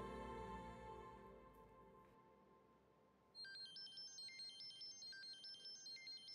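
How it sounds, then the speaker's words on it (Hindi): A phone ringtone chimes in a repeating electronic melody, fairly loud, after a stretch of low background hum. "सादिया का फोन इस टाइम पे?"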